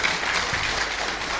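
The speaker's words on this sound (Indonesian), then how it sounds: "Ini tepuk tangan untuk Polres Lamando ini." Audience clapping for the Lamando police at an Islamic sermon gathering, a dense, steady wash of applause from a crowd, continuous and fairly loud throughout.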